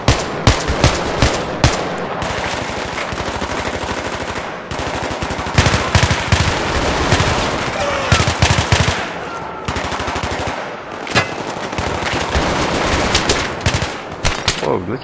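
Rapid automatic gunfire in a Battlefield 3 co-op mission, loud and nearly continuous for the whole stretch, with dense machine-gun bursts, sharp single shots and brief pauses between volleys.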